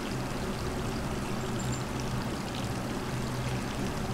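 A tap left running in the video game Resident Evil 3 remake, a steady stream of water pouring and splashing continuously, fairly quiet, with no talk over it.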